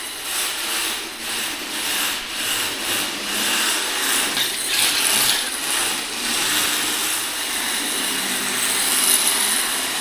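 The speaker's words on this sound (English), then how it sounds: "you kind of hear a funny sound as they're running" Sakura D6 RC drift car running on hard, slightly out-of-round stock tires, a steady whirring electric motor drone with faint rhythmic scuffing, continuous and moderately loud throughout.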